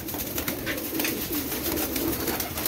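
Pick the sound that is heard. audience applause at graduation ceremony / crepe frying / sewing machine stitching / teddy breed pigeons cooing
teddy breed pigeons cooing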